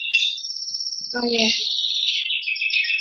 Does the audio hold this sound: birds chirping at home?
yes